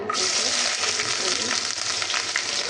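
Sliced onion and garlic frying in a pan with reddened chillies, a loud, dense, continuous sizzle heard up close with faint stirring scrapes.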